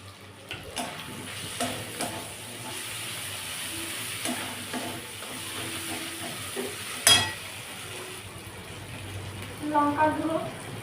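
Spices being stirred and fried in a pan for a pointed gourd mince curry: soft continuous sizzle under scraping stirs, with a sharp clink partway through and someone talking over it.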